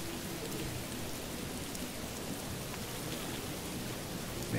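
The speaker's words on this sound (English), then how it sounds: "she's washing the floor under the rain" Rain falling in the video game Morrowind, a steady even hiss of drops at low volume with no voices over it.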